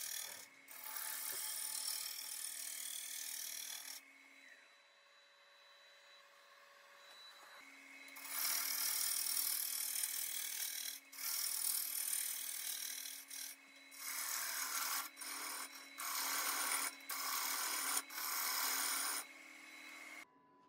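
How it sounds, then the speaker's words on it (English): A gouge takes pull cuts across the face of a spinning wooden sign on a woodturning lathe, loud scraping bursts broken by short pauses while the lathe's motor hum runs underneath, with no talking. "now I'm using that same pull cut on the on this face here"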